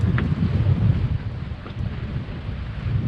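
Wind buffets a boat near an island while inshore fishing, a steady low rumbling roar that presses on the microphone throughout with no break.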